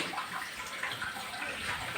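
Water running steadily from a tap as a container fills, a continuous hissing rush close by with no talk over it.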